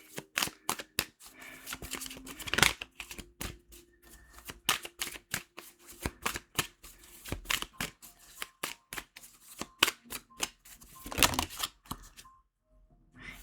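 Tarot cards are shuffled and drawn by hand in a quiet room. The sound is a close series of sharp riffling snaps and soft slaps in uneven bursts, with pauses between them and no talking.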